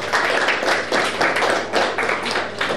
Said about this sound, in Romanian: autorului Ovidiu Oana Pârâu, aplaudat încă o dată de noi